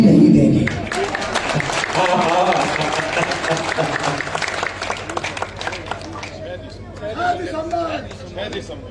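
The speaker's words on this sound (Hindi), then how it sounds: "तो तालियां महेश के लिए उठे।" An audience claps at a Hindi poetry recital for a Navratri programme. Applause and crowd chatter rise at the start, then a speaker's voice carries on over the fading clapping.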